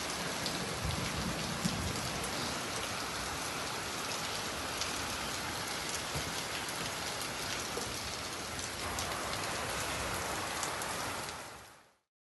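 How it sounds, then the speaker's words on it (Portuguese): Heavy rain pours down in Santa Catarina, Brazil, a dense, steady hiss of drops drumming on surfaces for about twelve seconds before cutting out. "mostrando que teve muita chuva em Santa Catarina"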